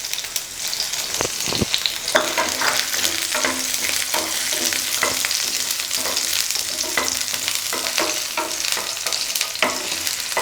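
Peanuts frying and sizzling in a hot kadai for peanut chutney, a steady loud hiss broken by crackles and spoon stirring scrapes, with no voices.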